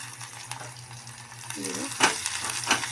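Onions with coriander and turmeric frying in a pan, a close crackling sizzle with spatula scrapes and clinks against the metal, a voice speaking briefly under it.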